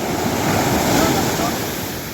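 Steady roar of sea waves with wind rushing across the microphone, constant and fairly loud.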